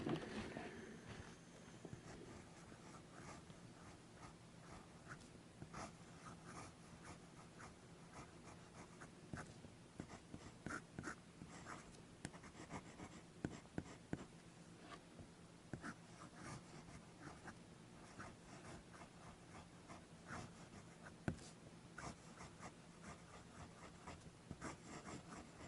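A pen scratches across regular notebook paper in quiet, close, continuous strokes with small irregular scrapes and taps throughout, with no talking.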